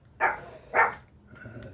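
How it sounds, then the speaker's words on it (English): A dog gives two sharp, fairly close barks about half a second apart, followed by a softer, quieter whine-like trailing sound, with no talking in between. "The dog's barking."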